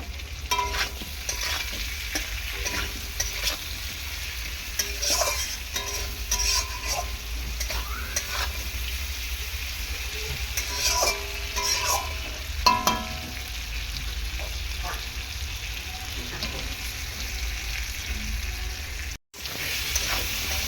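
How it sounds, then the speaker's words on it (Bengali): Potatoes with green chili frying and stirred in a pan for a Bengali katla fish curry with potato and tomato, a steady close sizzle with scraping stirs throughout and no talk. "আলুটাকে প্রথমে এরকম ভালো করে কষিয়ে নেব তিন থেকে চার মিনিট আলুটাকে ঢাকা দিয়ে দিয়ে সুন্দর করে কষিয়ে নিতে হবে"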